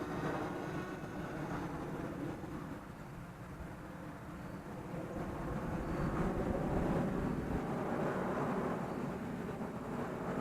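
A jet passes far overhead at high altitude above open fields. It makes a faint, steady broadband roar that swells gently toward the middle and then eases, with no voices.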